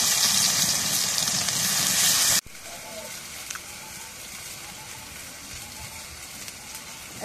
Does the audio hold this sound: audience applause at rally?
no